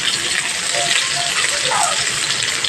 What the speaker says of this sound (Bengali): হলুদ দিয়ে পটলটা আমি ভেজে নেব